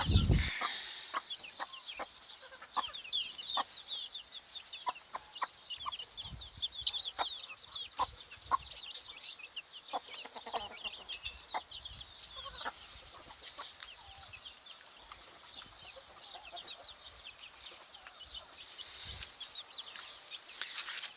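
Chickens and a rooster cluck in a coop in a steady, busy chatter with scattered sharp clicks and pecks, no voices, a close and continuous barnyard murmur.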